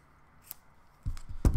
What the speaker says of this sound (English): What are you doing with those scissors?